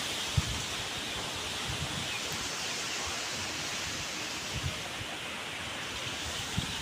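Strong wind blowing behind a house beside a field during a storm with little rain, a steady broad roar with occasional low gusty thumps against the microphone, no talk.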